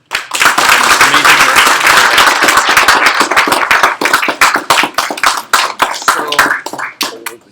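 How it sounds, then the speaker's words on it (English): A crowd applauds loudly and steadily, then the clapping thins into scattered individual claps that fade out toward the end. "a round of applause for our judges"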